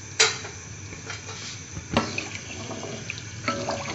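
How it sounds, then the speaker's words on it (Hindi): Water pours into a metal pot of chicken in a home kitchen, splashing and sloshing close by with a few clanks of utensil against pot. "इसमें हम सिर्फ पानी डालेंगे।"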